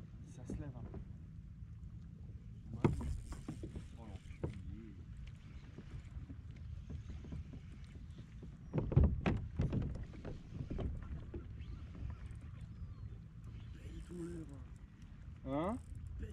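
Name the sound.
wind outdoors while fishing at sea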